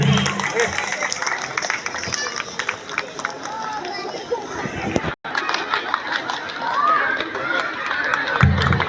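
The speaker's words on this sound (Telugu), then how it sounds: "క్లాప్స్ అండి" Audience applause at an outdoor prize ceremony for winners, a dense crowd clapping steadily with chatter throughout, briefly cutting out midway before resuming.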